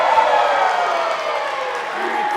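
A large wrestling-event crowd cheers and applauds in a steady, dense roar that carries throughout, with scattered whoops rising above it.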